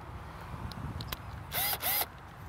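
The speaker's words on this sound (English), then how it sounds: "This is what we use to cut the PVC with." A pipe cutter bites through half-inch PVC pipe in an outdoor garden bed, giving two quick, sharp bursts of cutting noise in close succession after a stretch of quiet background.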